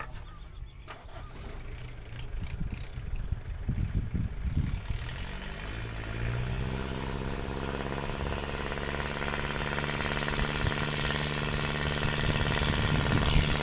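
A farm tractor with a loud exhaust pipe, working a field, cranks and catches, then settles into a harsh, droning engine roar that grows steadily louder and more insistent.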